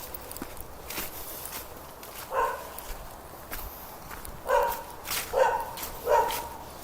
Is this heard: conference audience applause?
no